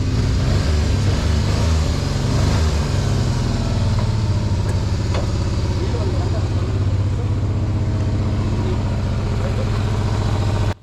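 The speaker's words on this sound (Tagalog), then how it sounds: "medyo maingay yung sasakyan" A car engine runs steadily with a low, rumbling drone throughout, close and fairly loud, with no speech.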